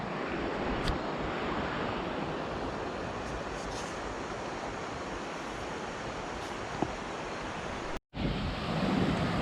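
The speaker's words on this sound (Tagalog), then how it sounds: "narinig ko na yung tubig. Lagas-gas ng tubig." Rushing water of Bomod-ok Falls in Sagada, a loud steady roar of falling water that fills the whole stretch, broken by a brief dropout near the end.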